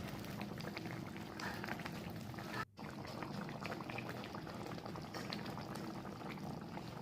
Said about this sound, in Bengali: দুধে বলক চলে আসলে ভেজে রাখা কোফতাগুলো এতে দিয়ে দিচ্ছি এবং মাঝারি আঁচে রেখে 10 মিনিট রান্না করছি